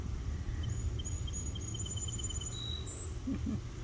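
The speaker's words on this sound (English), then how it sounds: "One little bird that's making a lot of song for us tonight." Faint high-pitched chirps from a small bird repeat in a quick series over a soft outdoor background hum.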